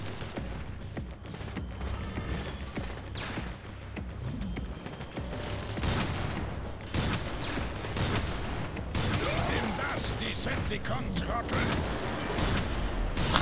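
Gunfire from the video game Transformers: War for Cybertron, repeated shots and bursts with mechanical clanks and booms in fairly quiet game audio while a player talks over it.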